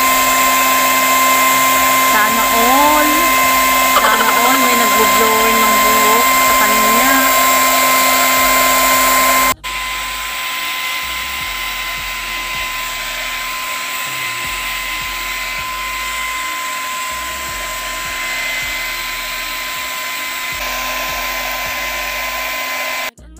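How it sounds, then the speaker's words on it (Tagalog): A hair blower drying a golden retriever's fur roars in a constant loud whine close by, with a voice talking over it at first before the blower continues alone at a slightly lower pitch. "Sana all may nag-blower ng buhok."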